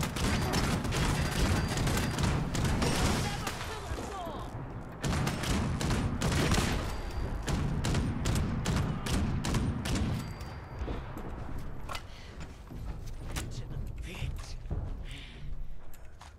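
A Gatling gun fires in Fallout 76, dense streams of rapid rattling shots running in long bursts, loud and close, with brief pauses and a voice talking through the barrage.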